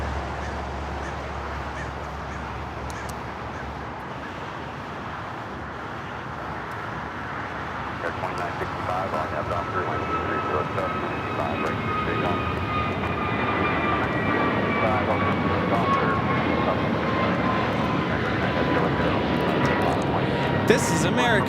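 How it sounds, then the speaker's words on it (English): An American Airlines Airbus A321neo departs LAX for Philadelphia, its jet roar building steadily with rising whining tones, while voices chat over the engine noise. "This is American Airlines 2018 taking off to Philly on the A321neo."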